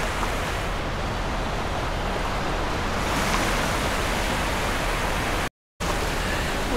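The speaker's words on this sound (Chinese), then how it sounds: "东海是一种深绿色的，而且它的海浪更大，浪更急，" Sea waves break on the sandy shore at Grenen, Denmark's northern tip where two seas meet. The surf makes a steady, loud, broadband wash with no talk, and it cuts out briefly near the end.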